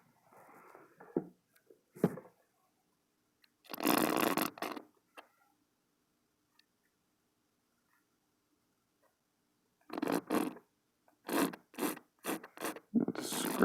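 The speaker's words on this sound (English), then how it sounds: "Let's scrape all this off." A palette knife scrapes wet oil paint off a canvas seascape of a pirate ship, heard as short dry rasping strokes: one burst early, then a quick run of close scrapes near the end, with quiet pauses between.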